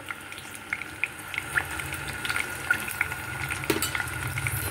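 Onion paste and ginger-garlic paste fry in a pan for Punjabi chole, a soft continuous sizzle broken by frequent light clicks and scrapes of a spoon stirring against the metal.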